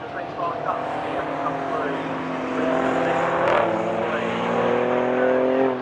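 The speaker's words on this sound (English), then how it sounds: "That Giulia just sounds immense compared to all the other cars here." An Alfa Romeo Giulia and other race cars drive past on a track during an Italian car show, a loud, continuous engine roar that swells as they pass close by, with speech mixed in.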